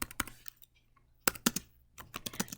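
Quick bursts of computer keyboard typing, a few clustered key clicks, then a short pause and another run of taps, close and fairly quiet.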